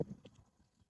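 Hooves of a healthy horse clip-clop on the ground during a horse bidding at Maryland Park in Tagaytay, a few quick, faint steps over soft background noise.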